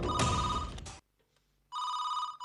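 A telephone rings indoors in a television drama, with two loud, close bursts of electronic ringing separated by a short silent gap.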